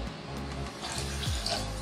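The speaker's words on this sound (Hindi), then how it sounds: "ये मैं इसके अंदर ये 500 ml पानी मैंने इसके अंदर डाल देती हूँ" About 500 ml of water is poured into an electric kettle, a steady splashing stream running throughout at low to moderate level.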